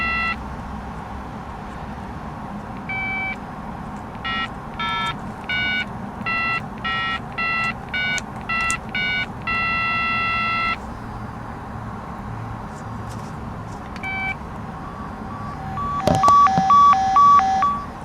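Vintage 80s–90s cell phone powering up, giving a series of short electronic beeps and tone bursts in an irregular sequence, one long tone near the middle, then a brighter two-tone chirp at the end, clear and close.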